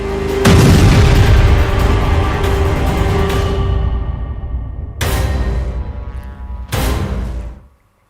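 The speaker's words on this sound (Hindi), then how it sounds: "जिसे सोशल मीडिया में पुतिन के डमी एटम ब्लास्ट की तरह बताया जा रहा है" A massive blast from a dummy atom bomb explosion gives a loud, deep rumbling boom that rolls on for several seconds, followed by two more sharp, heavy bursts before fading out.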